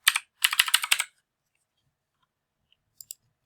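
Several quick bursts of keystrokes on a computer keyboard, a short cluster followed by a denser run of clicks, close and clear in a quiet room, then two faint isolated taps.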